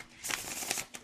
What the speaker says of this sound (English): Oh my gosh, just shuffle so beautifully